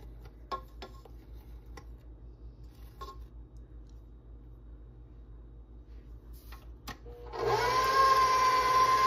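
Electric mixer whipping buttercream frosting for cupcakes starts up late, a close, steady whirring hum after several seconds of quiet kitchen ticks and clicks.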